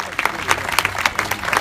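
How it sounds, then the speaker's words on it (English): Audience applause at a state senate swearing-in ceremony, a lively patter of many hands clapping with distinct sharp claps standing out, mixed with crowd voices, moderately loud. "Please give him a round of applause."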